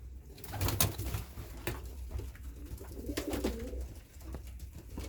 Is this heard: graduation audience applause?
no